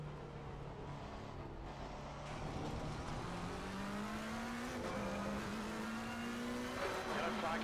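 Race cars in a racing video game whine past one another, engine tones climbing steadily in pitch as they accelerate, a continuous droning blend of several motors at moderate level with no talk over it.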